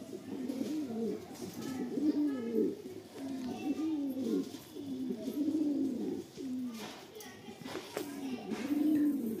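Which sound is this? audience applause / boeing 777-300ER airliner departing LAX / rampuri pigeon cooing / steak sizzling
rampuri pigeon cooing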